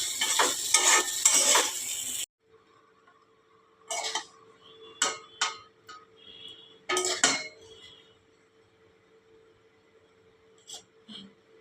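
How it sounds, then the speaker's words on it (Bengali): Spiced food being stirred in a pan: a burst of busy scraping and clattering at first, then quiet broken by separate knocks and clinks of the utensil against the pan, close by with no talking. "গুঁড়োটা দিয়ে একটু ভালো করে নাড়াচাড়া করে নেবো।"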